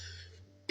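A single sharp cough bursts out near the end, loud and close, after a stretch of quiet room hum.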